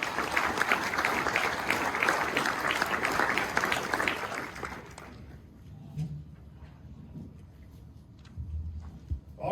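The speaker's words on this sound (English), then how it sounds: "How about a round of applause for our directors?" An annual meeting audience applauds the board directors of an energy cooperative, with dense clapping that fades out midway, leaving a quiet room with scattered shuffles and a few faint claps.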